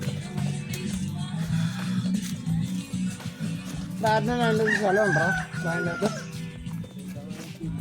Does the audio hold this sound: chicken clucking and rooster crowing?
yes